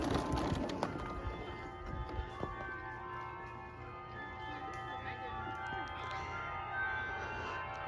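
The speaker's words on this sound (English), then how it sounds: "Can you hear the bells?" Distant carillon bells at Bok Tower gardens ring out in sustained, overlapping tones, faint against a quiet open-air background.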